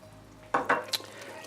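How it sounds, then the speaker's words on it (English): A spoon stirs butter through mushroom risotto in a pan, with three distinct scraping strokes over a faint background hum and no talking. "we stir it in till it's completely melted"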